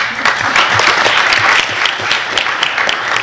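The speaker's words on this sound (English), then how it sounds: "get a little applause for you" Dense, loud audience applause at a school board meeting, steady clapping from many hands throughout with no voices standing out.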